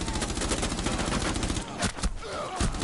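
Rapid automatic gunfire from Rainbow Six Siege rattles loud and close in a continuous stream, breaking off briefly before a few more bursts, with voices faintly mixed in.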